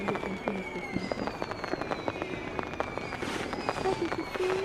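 Fireworks burst repeatedly across the sky in a dense crackling barrage, with whistling rising shells and steady pops continuing throughout.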